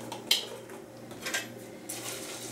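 A fork working stuffing mix around in a dish, a few quick scraping clinks of metal against the dish spaced out over a couple of seconds, close and fairly quiet.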